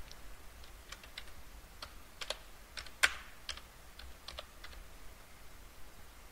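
Light, irregular keystrokes on a computer keyboard tap in a quiet room, a scattered run of close clicks with one louder press midway.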